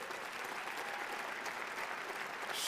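Steady applause from a banquet audience at a Title IX anniversary event, a dense even wash of many hands clapping throughout with no pauses, swelling slightly at the end.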